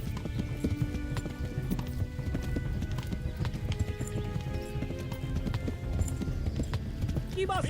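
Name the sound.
horse galloping and neighing in the video game Hunt: Showdown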